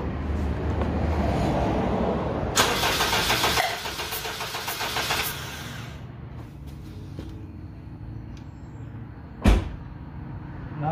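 A Honda Civic engine cranks on the starter during a cylinder compression test, a loud steady churning that runs for several seconds, then quieter mechanical noise with a sharp click near the end.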